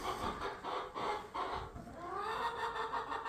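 Chickens clucking inside a barn stall, soft repeated clucks and murmurs from several birds at moderate distance, continuous with no speech.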